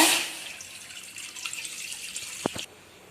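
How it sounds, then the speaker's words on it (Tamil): Water running from a tap into a cooking pot while making sugar syrup for a rose sweet, a steady close hiss with a couple of brief splashes near the end before it stops. "இப்போ பாவுக்கு தேவையான அளவு தண்ணி சேர்த்துக்கலாங்க."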